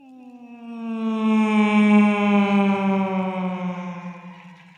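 A human voice imitates a fighter plane passing overhead, a sustained tonal whoosh that rises and swells in the middle, then slowly falls and fades, heard alone without talk.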